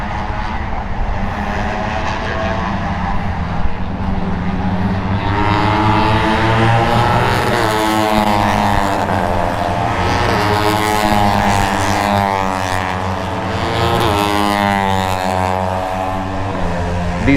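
Honda 250 racing motorcycles, about 48 bhp and 84 kg, approach on a race track. A loud, continuous engine drone carries rising, sweeping revving whines that swell as the bikes draw nearer.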